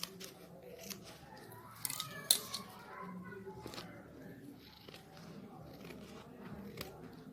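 Scissors snipping through green coloured paper at close range, a few short crisp cuts with light paper rustling, over a low room murmur.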